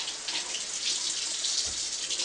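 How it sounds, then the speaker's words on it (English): Cold tap water runs steadily and close by, a constant splashing hiss as watercolor paper is wetted under the faucet. "I just use cold water, get it wet."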